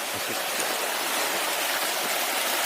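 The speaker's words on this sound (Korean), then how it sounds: "살짝 계곡이, 계곡물이 흐르고 있어서 아마 담아보고 있는 중입니다" A mountain valley stream on Sorisan in Yangpyeong flows steadily, a close, continuous broadband rush of running water with no pauses.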